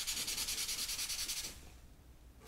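Someone rubs a comic book cover to clean it. A steady close rhythmic rubbing swishes back and forth for about a second and a half, then fades to quiet.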